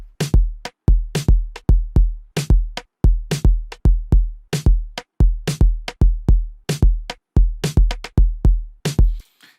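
Programmed Afrobeat drum loop layering a rim shot, kick, live snares, clap and conga, with punchy, evenly spaced hits repeating in a steady, loud groove for about nine seconds before cutting off.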